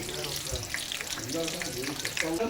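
Eggs boil in a pot on a home kitchen stove, a steady close bubbling and watery hiss that runs throughout with small pops, and no clear talk over it.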